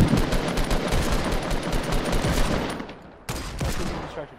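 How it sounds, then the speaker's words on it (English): Fortnite gunfight with dense, rattling automatic fire and shots coming in from an unseen shooter. The fire is loud and continuous and fades briefly before a sharp new burst cuts back in. "Oh, I'm getting shot from somewhere."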